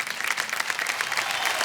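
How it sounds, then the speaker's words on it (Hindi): A studio audience on Kaun Banega Crorepati breaks into steady applause, a dense, continuous patter of many hands clapping that fills the short stretch. "तालियां बज जाए इनके लिए।"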